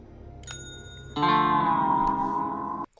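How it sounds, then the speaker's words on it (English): A chiming bell in the Call of Duty zombies map Buried rings out clearly with a bright, sustained metallic tone that holds for over a second before cutting off, following a softer chime just before it. "This is me hitting the last bell and completing the step in my game."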